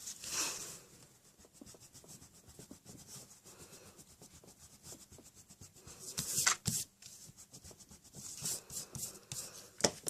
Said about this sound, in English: I'm just going to erase that real quick.